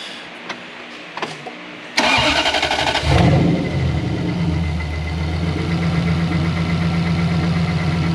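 A Toyota Hilux with a swapped 1UZ V8 and T88 turbo cranks and fires up after a few quiet clicks, then settles into a loud, deep steady idle with a rumbling exhaust.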